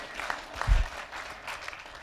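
Short burst of audience applause at a political institute forum, brief scattered clapping that swells around the middle then thins out, moderately distant.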